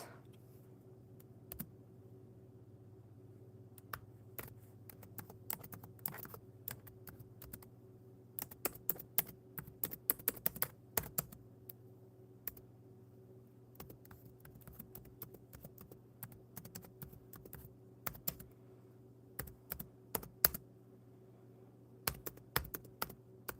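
Computer keyboard typing in bursts of rapid clicks with short pauses, fairly close and fairly quiet over a steady low hum, with no talking.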